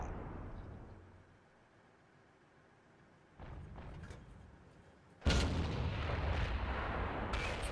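A tank gun fires in the World of Tanks video game, an IS3 heavy tank battling a Jagdpanther, with a sharp loud blast near the end over continuous rumbling battle ambience and an earlier duller boom.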